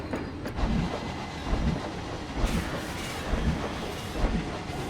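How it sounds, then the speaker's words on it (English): A train rides along its rails in the Planet Coaster video game, giving a steady rumbling roll with a recurring clickety-clack that repeats throughout. "Ride the train for a moment."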